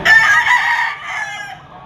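A pumpkin hatch gamefowl stag crows once in a short, loud, close call that fades at the end, with no talk over it.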